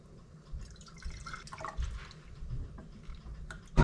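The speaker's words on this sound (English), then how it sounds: "I'm gonna start funneling my bone broth into my pint mason jars." Bone broth is ladled through a funnel into pint mason jars, giving soft, close-up liquid drips and pours with a few light clinks and a sharp knock near the end.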